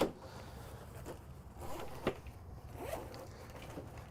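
Velcro strap on a first aid kit pulled off the wall inside a 2022 Summit Longs Peak camper van: a faint, brief tearing rip among soft rustles and handling noise.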